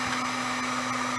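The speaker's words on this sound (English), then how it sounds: "So I just leave the heat gun sitting on the countertop here and allow it to continue to heat as I work along." A heat gun left running on a countertop blows a steady, close fan-and-heater whoosh with a constant hum, unbroken for the brief moment.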